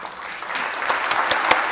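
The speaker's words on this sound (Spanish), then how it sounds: "yo quisiera dar más fuertes aplausos para" Conference audience at a mathematics education plenary session starts applauding, a brief burst of clapping that builds with a few sharp near claps standing out.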